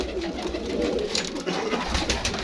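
Pigeons coo softly inside a breeding cage, low murmuring calls repeating under a faint background hum, close but quiet throughout.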